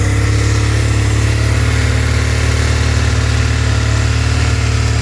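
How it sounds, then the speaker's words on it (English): A 2009 BMW F800 ST motorcycle engine idles steadily, with a continuous low, even rumble that holds at the same pitch throughout, close up and with no one talking. "the bike is purring. She's sounding really,"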